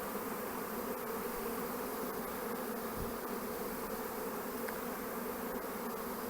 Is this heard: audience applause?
no